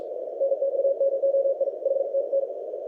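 An Elecraft K4 transceiver gives a CW sidetone with a little noise reduction applied, a steady mid-pitched tone pulsing in fast Morse rhythm over a soft hiss, with no voices.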